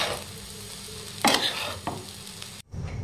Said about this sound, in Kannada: ಇದನ್ನ ಲೋ ಫ್ಲೇಮ್ ಒಳಗೆ ಈ ಥರ ಮಿಕ್ಸ್ ಮಾಡ್ಕೊಂತಾನ ಒಂದರಿಂದ ಒಂದೆರಡು ನಿಮಿಷಗಳ ಕಾಲ ಬಿಸಿ ಮಾಡ್ಕೊಳ್ಳೋಣ್ರಿ.